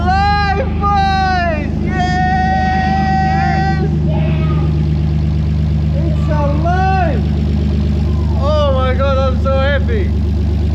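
A BMW E46 car engine runs with a steady low rumble throughout, likely just started and idling, while people talk loudly and excitedly over it.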